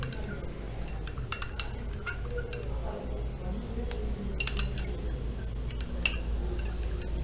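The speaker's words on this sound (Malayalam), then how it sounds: "നല്ലപോലെ മിക്സ് ചെയ്ത് കൊടുക്കുക." A spoon stirs aloe vera juice in a glass, giving light irregular clinks and taps against the glass, fairly faint under a soft background hum, while a person talks.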